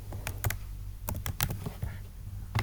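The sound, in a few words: typing words on a computer keyboard in Scratch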